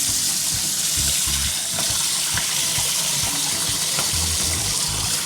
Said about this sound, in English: Now I'm going to rinse this rice.